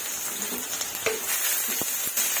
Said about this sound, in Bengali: পেঁয়াজ কুচি হালকা ভেজে নেব